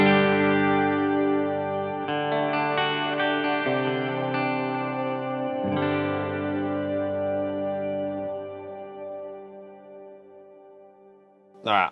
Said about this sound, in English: We got some shimmer, we got some delay, and we got two different kinds of reverb.